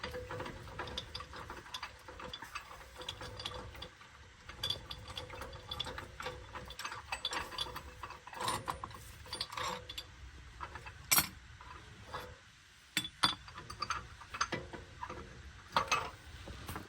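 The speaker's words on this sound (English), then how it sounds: "So we'll go ahead and undo our pressing tools." Diff bushing pressing tools being undone on a BMW F82 M4, with repeated close ratchet clicks and metallic tool rattles in irregular bursts, moderately loud, no talking.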